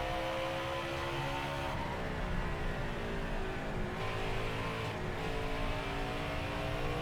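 A NASCAR Xfinity race car engine in the video game NASCAR Heat 5 at Bristol, a steady drone with shifting pitch as the car revs and eases off, continuous and close, without any voices.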